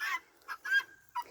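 A small pet bird gives a series of four or five short, bright chirps and squawks with brief gaps between them, close and fairly loud, with no talking over them.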